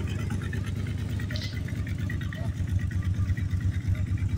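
A car engine idles at a car show in Athens, Georgia, a close, steady rhythmic rumble that keeps an even beat throughout, with no voices over it.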